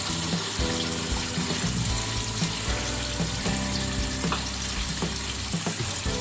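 Spinach sautéing in a spiced masala for aloo palak, a dense continuous sizzle with wet stirring sounds, heard under a steady musical backing.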